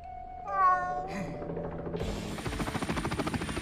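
A cartoon cat gives a single clear meow, followed by a rising mechanical whirring and fluttering noise, all fairly quiet.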